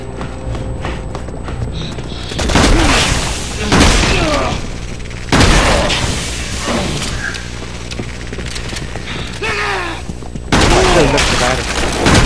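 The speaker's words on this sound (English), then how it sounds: "Nice shooting, Pierce" A shooting video game: loud, dense bursts of gunfire and booming explosions come in several waves, mixed with excited players talking and shouting over the action.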